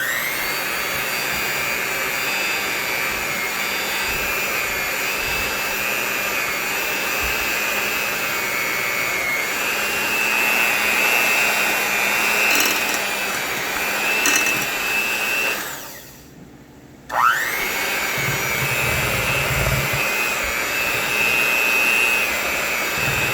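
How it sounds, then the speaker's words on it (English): An electric mixer whirs steadily through cake batter for a strawberry lemonade crunch cake. The loud, continuous motor drone cuts out briefly, then starts up again at full volume. "So, like I did before, get my mixer."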